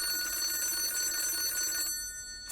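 A phone in a phone booth in the middle of nowhere rings in the Digimon Adventure cartoon, a bright electronic trill that holds steady, then cuts off abruptly into near-silence.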